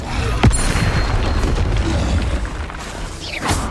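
Booming spell blasts erupt in the video game Hogwarts Legacy, a Confringo explosion among rapid spellcasting, with sharp bursts near the start and end over a rumbling, crackling wash of battle noise.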